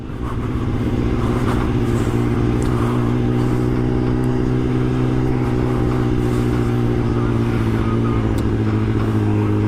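A liter-class sport motorcycle with a quick shifter accelerates, its engine a loud, close, steady buzzing drone that holds throughout with light mechanical clatter.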